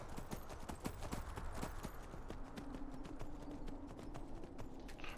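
Horse hooves clip-clop in a steady trotting rhythm in the game Skyrim, close and distinct, with a brief tonal hum partway through and no talking.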